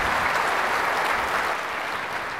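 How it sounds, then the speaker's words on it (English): Sustained applause from a keynote crowd at RSTechED 2014 honoring Bob Murphy, a full, steady roar of many hands clapping that tapers slightly near the end. "how about a round of applause for Bob Murphy?"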